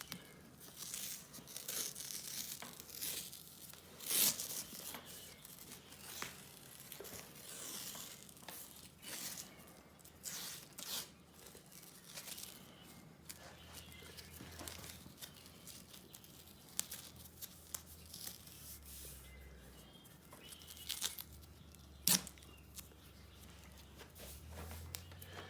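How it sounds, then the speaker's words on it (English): Athletic tape is torn and pressed down while a closed basket weave is built on an ankle, giving repeated crinkly ripping and rustling bursts with brief pauses and a couple of sharp tearing peaks. "when I place the tape, I want to cover at least half of the tape before it"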